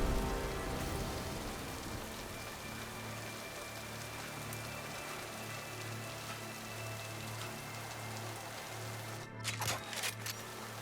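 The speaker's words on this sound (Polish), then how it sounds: "No, kozacki deszcz." Steady rain falls in the video game Mass Effect 2, a continuous soft hiss of drops under a low droning hum, with a brief clicking burst near the end.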